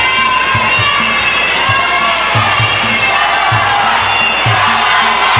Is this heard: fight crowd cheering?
yes